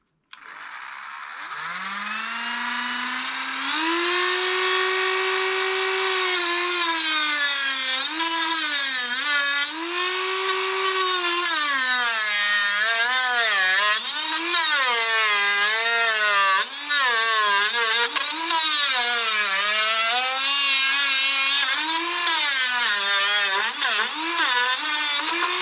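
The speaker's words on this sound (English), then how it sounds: "I'm going to cut it off flush so I can start from scratch, use a Dremel small cut off disc." A small Dremel cut-off disc grinds through a corroded exhaust stud on a Honda CBR600 F4 header, its high whine rising and wavering steadily for about twenty-five seconds close to the microphone.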